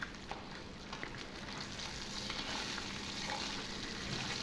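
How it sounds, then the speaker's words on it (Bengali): Pabda fish fry in hot oil, producing a soft, steady sizzle with faint crackles and pops that carry on quietly without pause. "একে একে সমস্ত মাছগুলো আমি ভেজে নিয়েছি"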